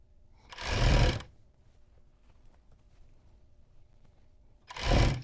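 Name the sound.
sewing machine stitching a seam over elastic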